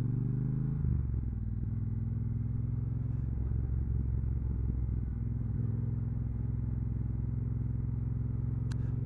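A Triumph Bobber Black Dart motorcycle rides at speed on a dual carriageway. A loud, steady engine drone runs throughout, mixed with rushing wind noise, and a brief faint click comes near the end.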